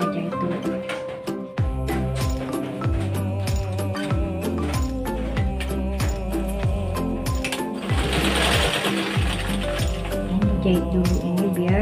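A sewing machine stitches the folded edge of an apron pocket, its rapid needle chatter running steadily and loudly throughout with short pauses and restarts, and no talking over it.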